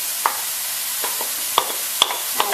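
Chopped celery hits a hot pan for stir-frying, a constant bright sizzle broken by several sharp clicks and scrapes of a utensil against the pan, close up and without speech.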